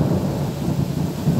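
Thunder from a thunderstorm just after lightning: a steady low rumble with rain noise, loud and continuous without any talk.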